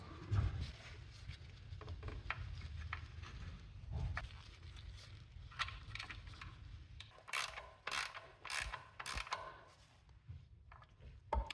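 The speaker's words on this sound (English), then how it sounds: "That back one's a little too tight for the wrench, so I'm going to use a socket." A socket wrench works a bolt on a 2004 Honda Accord engine during a valve cover gasket job: rapid, close ratcheting clicks in bursts over a low mechanical hum, with a few metallic knocks.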